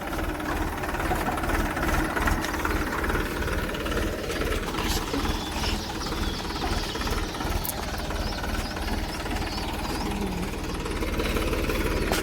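A tractor engine runs steadily in a farm field being ploughed, a loud, close, rumbling and knocking drone that continues throughout with no talk.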